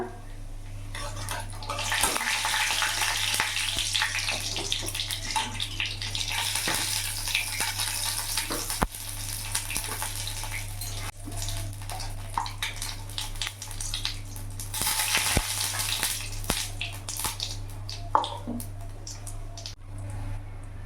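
Whole cumin seeds and a bay leaf sizzle in hot oil, a continuous bright hiss with crackling pops that surges in louder bursts, close up with a low hum underneath.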